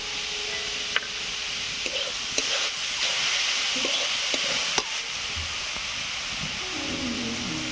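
Leafy greens sizzling in hot oil in a pan while being stirred: a steady, bright frying hiss throughout, punctuated by a few clicks and knocks of a utensil against the pan.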